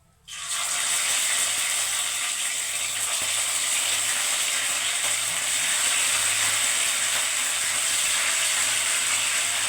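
Bhola fish sizzling steadily in hot oil in a pan, a dense continuous frying hiss that fills the clip from a sharp start, close and loud with no talking.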